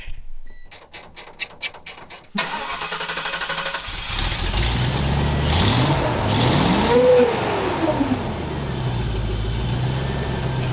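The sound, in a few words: car engine running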